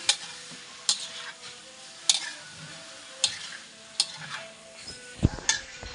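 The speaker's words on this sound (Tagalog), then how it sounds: "haluin lang po ng sandok" A ladle stirs food cooking in a pan for a home lunch dish, producing sharp metallic scrapes and clinks at regular intervals of about a second over a soft, low sizzle.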